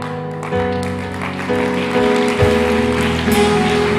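A church congregation applauds loudly during a sermon, a dense, rain-like wash of clapping that swells in waves over a sustained musical tone.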